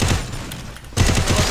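Rapid bursts of video-game gunfire crackle loudly, stop briefly, then resume in a dense automatic volley.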